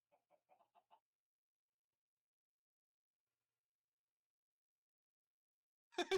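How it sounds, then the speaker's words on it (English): Minecraft chickens in a video game clucking, a quick run of five faint soft clucks at the start, then a long silence, ending on a louder, closer burst of clucking. "the horrible little chicken noises"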